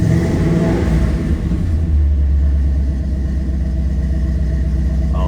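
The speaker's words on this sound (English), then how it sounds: "Let's give it a little rev." A 1953 Chevrolet 3100 pickup engine, just after a cold start, revs up loud and close and then settles into a steady, deep idle rumble, with no talking.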